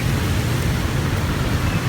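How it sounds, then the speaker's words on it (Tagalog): Steady, dense rain pours down at a public market in Taytay with a constant hiss, with no voices and no breaks. "So, umuulan na, guys. Grabe, umuulan na."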